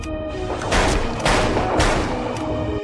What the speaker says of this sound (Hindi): मियां से गलती से गोली चल गई